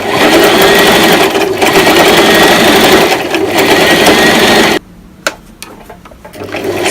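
A sewing machine stitches T-shirt fabric while a dress is made from three T-shirts, running in a steady loud whir for several seconds, then cutting off abruptly, with a few faint clicks and a restart near the end.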